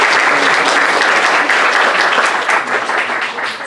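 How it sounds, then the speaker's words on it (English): Loud, sustained audience applause at a university lecture, a dense wash of clapping that holds steady and fades slightly toward the end, with no voices. "Everyone, applause."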